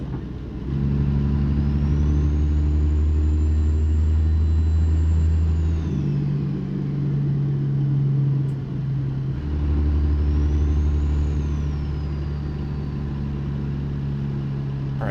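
Engine of a cement truck in American Truck Simulator rumbling steadily nearby, with a low drone that dips midway and then returns, plus faint high whines rising and falling.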